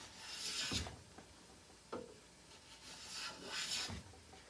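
A Stanley hand plane shaves wood on a spice rack door in several rasping strokes, some long and some short, close and fairly quiet, with a scrape or knock between passes.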